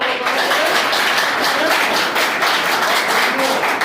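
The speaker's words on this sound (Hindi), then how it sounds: "इनके लिए जोरदार तालियां" Loud, dense applause from a large audience greeting a company CEO at a seminar, a steady wash of clapping filling the whole stretch with some voices mixed in.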